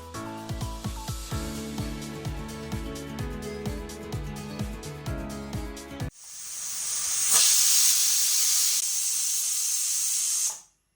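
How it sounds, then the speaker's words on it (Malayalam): A pressure cooker boiling potatoes on the stove lets out a loud, sustained steam whistle that hisses up strongly, holds for several seconds and then cuts off abruptly. Before it, rhythmic music plays. "അപ്പോൾ ഇതൊരു വിസിൽ വന്നിട്ടുണ്ട്."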